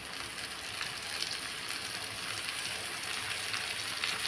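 Dried fish fries in a pan with a continuous dense sizzle, a steady crackling hiss that holds at even loudness from start to finish, with no voices heard.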